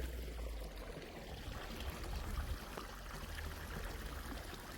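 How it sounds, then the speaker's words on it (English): Water gushing from a pipe beside a well near Ooty, a steady close rushing flow with no talk. "the water gets stopped from here and goes by the pipe."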